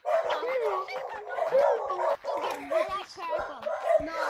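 Rapid, continuous yappy dog barks and whimpers come from a bark mod in the VR game Gorilla Tag, loud and close, filling the whole moment with overlapping bark sounds.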